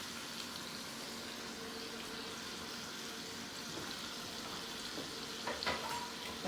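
Whole onions hit a hot frying pan and sizzle steadily in a home kitchen, a constant hiss with a few brief clinks and stirring noises near the end.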